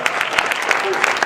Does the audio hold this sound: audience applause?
yes